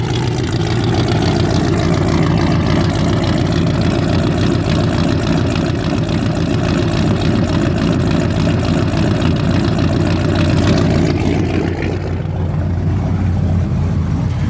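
A fuel-injected big-block engine in a 4x4 Squarebody truck idles steadily and loudly throughout, with a deep rumble and a small exhaust leak, its idle air control cycling; the tone thins briefly near the end before settling again.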